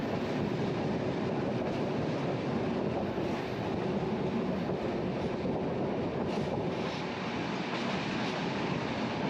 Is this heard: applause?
no